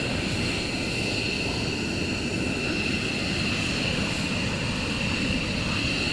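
A military jet takes off at RAF Lakenheath during a morning launch, a loud, steady, broad engine roar that fills the whole stretch without a break.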